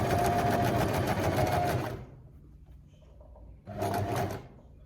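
Sewing machine stitching through bag fabric, a loud close rapid mechanical whirr running for about two seconds, a brief pause, then a second shorter burst of stitching.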